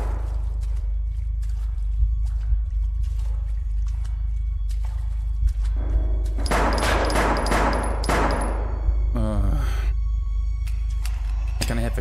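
Gunfire erupts during a tense horror video game, with a dense burst of rapid shots midway and a sharp fluttering sweep after it, heard against a constant low rumble of game ambience and music.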